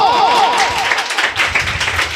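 A church congregation clapping during a Sunday sermon, a short burst of crowd applause mixed with a preacher's voice.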